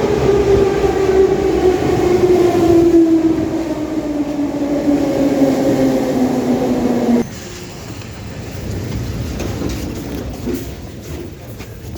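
Soviet-built Kiev metro train roaring loudly through a station, a falling tonal whine over heavy rumble for about seven seconds before it cuts to a lower, steadier rolling noise.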